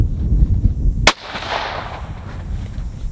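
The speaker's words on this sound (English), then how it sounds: "let's get things loaded up and let's start shooting" A single loud, sharp rifle shot with an EC Tuner muzzle brake cracks out at close range, followed by a short fading echo, after a moment of low background rumble.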